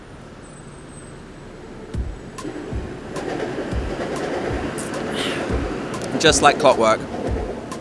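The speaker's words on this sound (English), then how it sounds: "There's the train." A train rumbles past in central Bangkok with rhythmic clacking of wheels on rails, while someone speaks briefly and birds chirp nearby.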